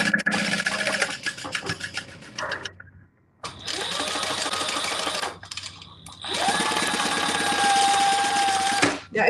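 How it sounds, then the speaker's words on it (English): Sewing machine top stitching fabric, three loud close bursts of fast whirring stitching separated by brief pauses, the last run the longest. "So I would top stitch that so it stays down"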